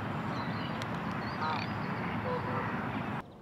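A male garganey duck calls during its head-throwing courtship display, giving short dry rattling notes over a steady outdoor background hum, fairly close and clear.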